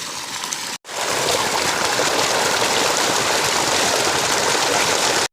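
Water gushes loudly and continuously from a pump pipe at a farm, a dense close rushing flow that briefly cuts out near the start and again at the very end.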